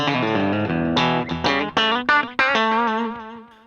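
Electric guitar played through a Line 6 HX Stomp with a simple delay and no reverb, a series of clean picked notes and chords ringing close and loud, each followed by faint repeating echoes.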